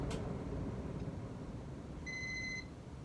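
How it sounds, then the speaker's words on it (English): A Casablanca Zephyr ceiling fan gives a single short electronic beep when set to reverse, clear but quiet over a low steady hum of the running fan. "sometimes the beeper like goes out when I try to reverse it"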